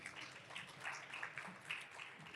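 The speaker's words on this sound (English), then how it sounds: "give him another round of applause" An audience claps for a presenter at a professional event, a soft, sustained patter of applause heard from a distance and fairly faint.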